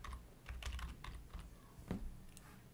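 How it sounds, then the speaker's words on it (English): Typing on a computer keyboard in Windows, a short flurry of close, crisp key clicks in an uneven rhythm that ends with a single firmer press, with no talking. "go to the start button and then type services."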